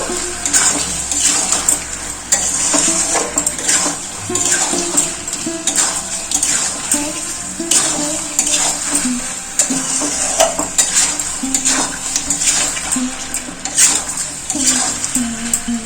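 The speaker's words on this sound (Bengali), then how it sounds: "আদা রসুন বেটে রেখেছিলাম দিয়ে দেব অল্প করে কষিয়ে নেবো" Ginger garlic paste frying in a pan gives a loud, unbroken hiss and sizzle for about sixteen seconds, layered with scraping and light metallic knocks from stirring, heard close.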